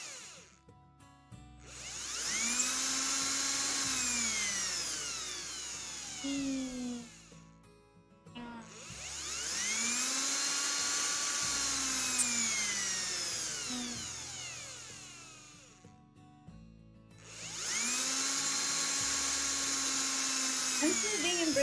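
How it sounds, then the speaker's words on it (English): Video-game sound effect of an electric drill boring through a wall, three long whining bursts that rise and fall in pitch, separated by short pauses, loud and close with no talking. "the sound of an electric drill crashes through the wall, hitting my ears"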